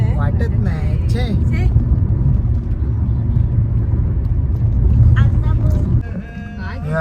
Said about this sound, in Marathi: आता गाडी 50च्या स्पीडने चालत आहे